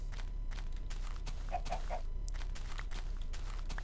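A few short chicken clucks from a Minecraft chicken, bunched together mid-clip and fairly faint against a steady background hum.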